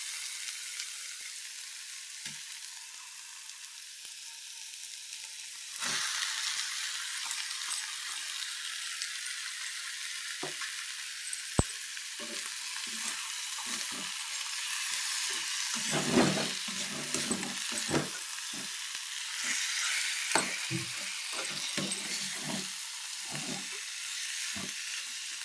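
Fish coated in salt and chili fries in a pan, a steady bright sizzle that swells as pieces go in, with occasional clinks and scrapes of a utensil stirring close by.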